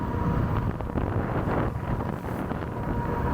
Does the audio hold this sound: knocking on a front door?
no